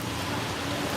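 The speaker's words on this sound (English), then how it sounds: "it's raining, as you can see, but the work must go on" Rain falling outdoors at an outdoor church camp, a dense, even hiss of steady rainfall, loud and unbroken for a short moment without voices.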